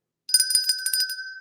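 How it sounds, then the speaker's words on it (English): A bell rung repeatedly in quick bursts for about a second, bright and ringing with a steady sustained tone beneath, loud and close with no talk over it. "ring bell for beer"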